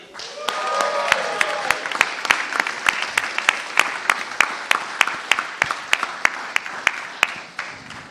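Crowd applause at a venture fund pitch competition, with sharp, evenly spaced claps standing out, sustained throughout, with a brief voice near the start.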